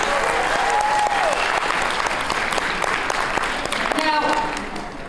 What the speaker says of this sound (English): a round of applause for those facilitators